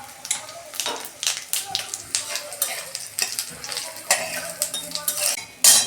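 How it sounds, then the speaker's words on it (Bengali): Dry red chillies, bay leaves, green chillies and whole cumin crackle in hot oil as a tempering for vegetable khichdi, with sharp sizzling bursts and a spoon clattering against the pan, close and lively. "ফোড়নে আমি 2টো শুকনো লঙ্কা, 2টো তেজপাতা, 3টে কাঁচা লঙ্কা, গোটা জিরে দিচ্ছি।"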